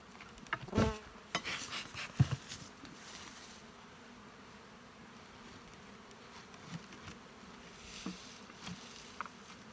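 A dense, steady hum of many honey bees buzzing in a hive of a wintered nuc, with a few louder individual bees passing close by early on.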